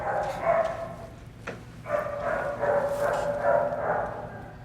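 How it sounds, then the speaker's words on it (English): A dog barks and yips in several bursts at moderate distance, with short pauses between the calls and a faint voice in the background. "let me hear you tell this dog he is not Toto"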